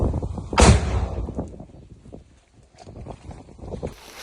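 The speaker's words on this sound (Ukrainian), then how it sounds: "Постріл!" A single loud blast from a rocket-propelled grenade launcher bursts out early on a frontline position near Kupiansk, followed by wind buffeting and scattered rumbling noise.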